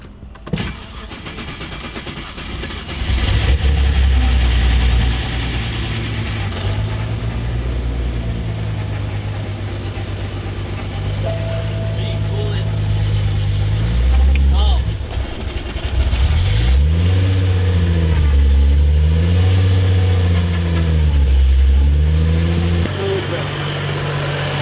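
BMW 335i E90 with an N55 engine fitted with a Pure Stage 2 turbo cranks over and then runs, a loud, close mechanical drone with a shifting idle pitch that continues steadily throughout.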